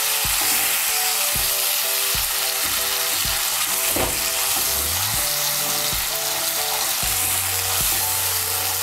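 Ginger paste and tomato paste fry in a pan for a doi paneer dish, making a loud, dense sizzle. Repeated scraping stir strokes and clanks of the utensil against the pan run through it, with no voices.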